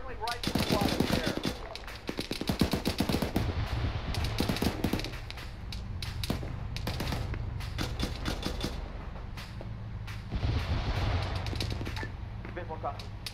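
Dense gunfire in the military video game ArmA 3, rapid automatic bursts and single shots crackling almost nonstop, with people talking over radio underneath.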